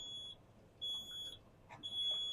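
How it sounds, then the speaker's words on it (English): An electronic safety system alarm on a historic machine beeps in long, piercing high tones, three sustained beeps separated by pauses, with faint background noise. "So that'll continue to beep until we do a reset."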